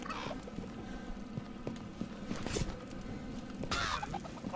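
A chicken clucking in the VR video game A Township Tale, with a few short bird calls over a busy background of game noise and movement, at moderate distance.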